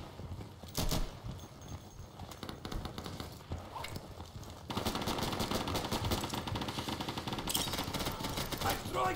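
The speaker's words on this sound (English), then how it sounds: "Heavy armor, full auto machine gun." A full-auto machine gun in Insurgency 2 fires rapid bursts, first in short broken volleys and then in a long, sustained, loud stream of rattling shots.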